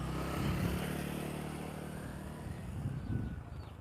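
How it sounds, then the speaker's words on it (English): Motorbikes and scooters pass along a neighborhood street in Hua Hin, Thailand, their engines a steady, fairly loud drone with swells as machines go by nearby. "Motorbikes all over the place, scooters."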